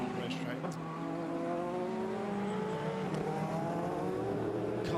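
Race cars battle in a close pack around the Indianapolis racetrack during an IMSA WeatherTech Championship race, engines rising and falling in pitch as they pass, loud and continuous, with commentary heard over them.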